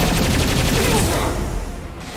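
A rapid-fire spray gun in Mass Effect 2 Legendary Edition fires a fast, loud, continuous burst of close shots that fades over the last half second.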